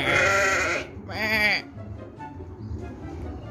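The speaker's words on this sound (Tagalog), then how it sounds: "Ito mga ordinary kambing." Goats on a farm bleating, with two loud, wavering bleats close by followed by quieter farmyard murmur and distant calls.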